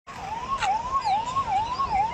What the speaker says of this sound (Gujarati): અહીંયા એમ્બ્યુલન્સના હોર્ન આપ સાંભળી